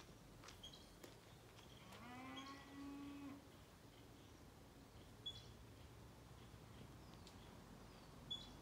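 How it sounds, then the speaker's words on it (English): Out in an oak woodland, a cow gives a drawn-out moo from some distance, a single faint low call against quiet outdoor background with scattered small bird chirps. "this cow over here is just mooing and mooing and mooing like every 3 seconds"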